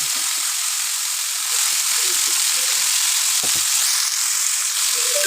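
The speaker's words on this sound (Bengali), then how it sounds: "তেল দিয়ে সেকেন্ড ব্যাচে মাছটা দিয়ে দেবো" Tangra fish frying in hot oil as a second batch, a loud, steady close sizzle that hisses on without a break, with faint low knocks underneath.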